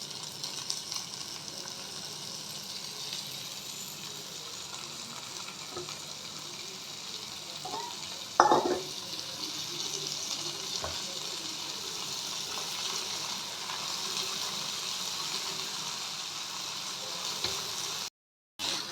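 Frozen peas hiss and crackle steadily in a hot pan of spiced oil, a continuous close sizzle with one sharp clatter partway through and a brief cutout near the end.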